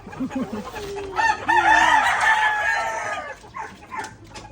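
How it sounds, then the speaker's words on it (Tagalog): Inside a backyard chicken coop, a rooster crows loudly in one long drawn-out call, preceded and followed by hens clucking nearby, with a brief voice in the background. "Flex muna natin ang mga alaga ni Alex, ang mga manok niya."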